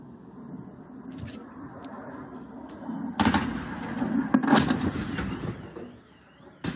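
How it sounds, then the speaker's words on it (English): Anti-aircraft fire in Ukraine: a steady distant rumble broken by several sharp bursts and cracks in the middle, a loud report near the end, no talking. "Anti-aircraft fire."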